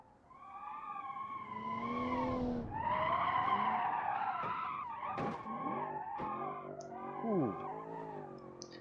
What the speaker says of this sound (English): Smons with a sick drift coming to last straightaway